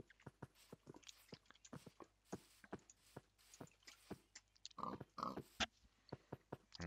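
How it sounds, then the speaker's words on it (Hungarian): Pigs in the Minecraft video game oink in short, quiet grunts at an irregular rhythm, mixed with soft game footstep clicks and no talking. "De itt is több malac van, az viszont egy jó hír."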